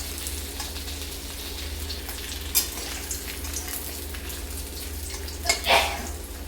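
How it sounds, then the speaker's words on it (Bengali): Rohu fish heads frying in hot oil in a pan, a dense continuous crackling sizzle like light rain, close and steady, with a few brief clinks and scrapes of a utensil near the end and no speech. "মাছের মাথাটা এদিকেও করে ভালো করে ভাজা হয়ে গেছে"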